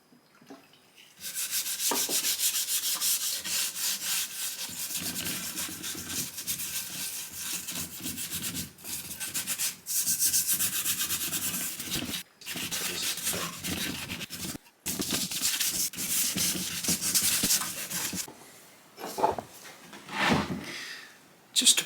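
Steady hand rubbing and wiping over the wood of a 1665 antique spice cabinet during cleaning with wood cleaner, a continuous close scrubbing texture broken by a few brief pauses.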